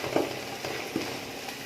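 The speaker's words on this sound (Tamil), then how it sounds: "பச்சை மிளகாய் சேர்த்ததுக்கப்புறம் லைட்டாக ஃப்ரை பண்ணிக்கலாம்" Green chillies lightly fry with coriander and mint in a pan for chicken dum biryani, giving a soft, quiet sizzle broken by a few brief stirring scrapes.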